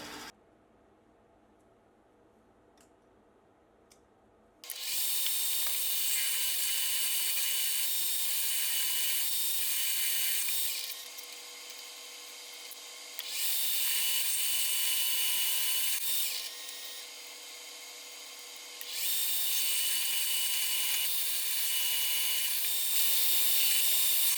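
Metal lathe cutting a counterbore into a steel tool post, a loud steady high-pitched whine after a quiet start, with a few brief dips in level as the cut pauses and resumes.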